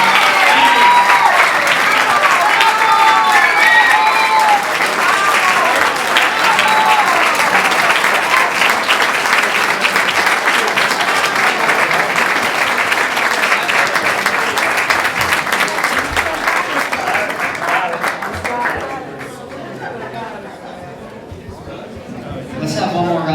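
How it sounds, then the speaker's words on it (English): A large audience claps at a charter school gala and anniversary celebration, sustained loud applause with a few cheers and chatter mixed in, fading somewhat near the end. "Let's have one more round of applause for Governor Pataki."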